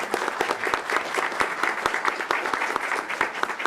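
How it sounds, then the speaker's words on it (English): Audience applause at a regular school board meeting, a dense steady patter of many hands clapping at close range, even in level for the full stretch with no voices over it. "We want to give you another round of applause, please."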